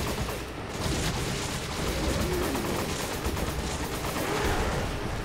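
Gunfire in the video game Resident Evil 5 runs as a dense, steady stream of rapid shots and bangs that fills the whole stretch with no talk over it.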